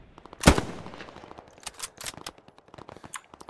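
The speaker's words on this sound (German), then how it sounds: "Boah, kann man sich ganz schön leer schießen." Machine gun fire in the World War II shooter Hell Let Loose: one loud close blast, then scattered bursts and distant rattling shots.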